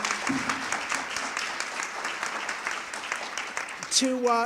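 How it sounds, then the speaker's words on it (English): Audience applause at an auditorium dedication ceremony, honoring the event planners: a steady wash of many hands clapping at moderate distance throughout, with a brief voice near the end. "How about a round of applause for all the event planners for making this great day happen?"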